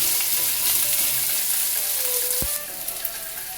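Chopped onion frying in oil with dried chillies and black cumin gives a steady close hiss and sizzle, with light stirring and a faint clink near the end.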